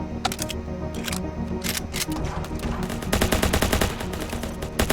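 Custom gun fire in the video game Ancient Warfare 3, a steady stream of sharp rapid shots with a denser, faster burst in the second half, loud and continuous without talk.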